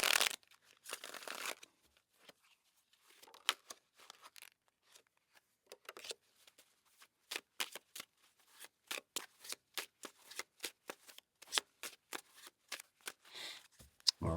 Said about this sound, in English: let's cut the deck and begin